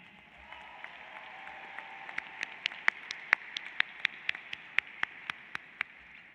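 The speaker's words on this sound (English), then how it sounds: "Let's have another big round of applause for Ariana." Applause at a law school hooding ceremony during a 2026 commencement, heard as fairly faint, thin clapping with a run of distinct, evenly spaced claps standing out near the microphone.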